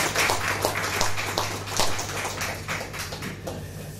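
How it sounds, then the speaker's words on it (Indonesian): An audience at an Indonesian advocates' legal discussion forum applauds a guest speaker being welcomed to the front, with steady scattered clapping from a moderately sized crowd lasting several seconds. "Kita tepuk tangan."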